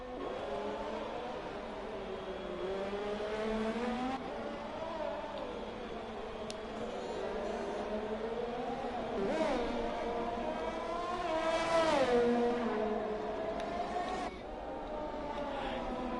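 Race car driving through the S's in a Mexico round, engine note rising and falling with acceleration and braking, a continuous moderate drone with a commentator talking over it.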